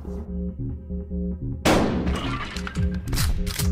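A single loud shotgun blast in the video game Buckshot Roulette cuts through a low, repeating musical drone, followed by a crackling, rattling tail and a few scattered knocks. No one speaks.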